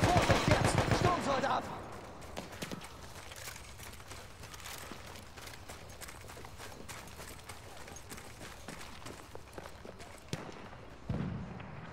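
Gunshots in Battlefield 1, with scattered distant shots cracking sporadically under a low battlefield ambience, a louder burst at the start and another near the end, with a voice speaking briefly.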